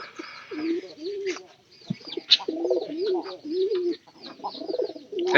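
Pigeons in a loft give repeated, close, throaty coos in rising and falling phrases, with a few brief knocks and rustles between them.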